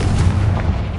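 A Confringo fire spell in the Hogwarts Legacy video game bursts into a loud, close, booming explosion with a deep, rumbling low end that fills the whole moment without any voice.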